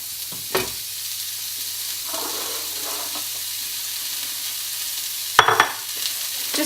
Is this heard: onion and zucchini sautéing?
yes